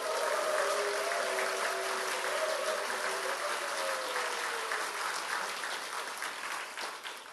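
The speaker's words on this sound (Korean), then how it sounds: "박수 한번 해주실래요?" A church congregation claps for the senior pastor during a worship service, a dense, even applause that holds steady and then slowly thins out, with faint tones sounding underneath.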